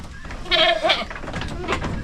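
A goat bleats twice in quick succession, a wavering, nasal call at moderate loudness over a faint outdoor background on a farm where goats are raised and sold.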